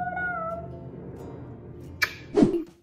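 A kitten gives a few soft mewing calls, then a sharp short squeak and a louder meow near the end, close by and indoors with no talking.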